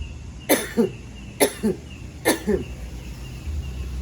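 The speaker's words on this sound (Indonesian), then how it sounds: "Kita belajar batuk." Three pairs of short coughs, evenly spaced and close by, then quiet.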